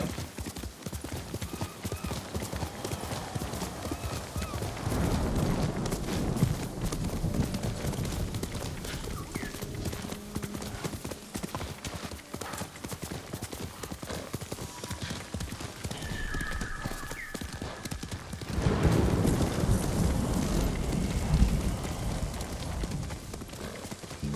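Horse hooves clip-clop steadily in the video game Ghost of Tsushima as the horse travels, the rhythm continuing throughout, with a brief whinny and a louder stretch of hoofbeats near the end.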